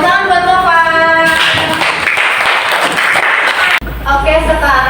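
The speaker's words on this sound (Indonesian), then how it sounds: "Tepuk tangan buat Tovan." Classroom students clap for a classmate, a burst of brisk clapping that follows a voice speaking and ends with talk resuming, all fairly close and loud.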